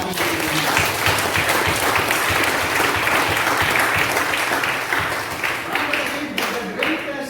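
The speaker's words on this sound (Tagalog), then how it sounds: "Pwede ba isa pang malakas na palakpak sa ating Panginoon?" A church congregation gives loud, full applause for the Lord during a service, dense clapping mixed with crowd voices and cheering that stays strong throughout.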